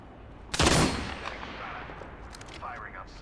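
A single burst of gunfire rings out loudly in the Apex Legends battle royale game and then fades into a lingering tail, with faint in-game effects and chatter trailing behind.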